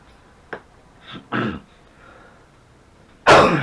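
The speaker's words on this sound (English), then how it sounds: "I am always coughing, clearing my throat" Several short coughs and throat clearings at irregular intervals, close and fairly loud, ending with a harsher, louder burst.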